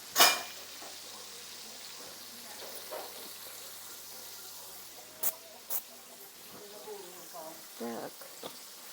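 Meat cutlets frying in a pan at home, a faint steady sizzle punctuated by a few sharp clicks and clatters, with occasional bits of talk in the background.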